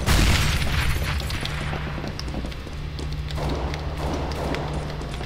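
A grenade detonates in a Counter-Strike: Global Offensive match, opening with a loud, close boom that rumbles and decays over several seconds beneath steady game ambience and distant gunfire crackle.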